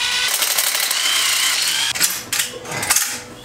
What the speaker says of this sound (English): 8mm socket takes off these clamps or a flathead screwdriver